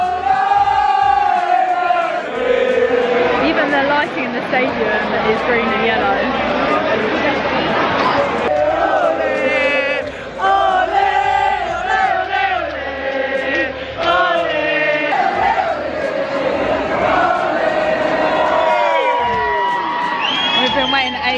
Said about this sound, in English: You can hear the singing even in the station.